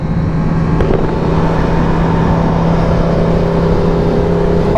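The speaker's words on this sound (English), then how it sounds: "That's gonna be the gas engine, these guys." A gas engine revs in a loud, close, continuous roar that stays steady and unbroken for a few seconds, with no voices.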